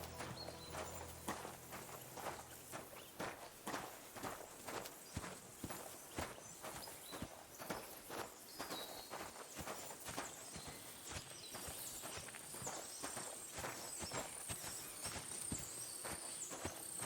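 Horse hooves clip-clopping in the medieval village world of Kingdom Come: Deliverance II, a steady run of close, distinct hoofbeats on hard ground continuing throughout, with no talk.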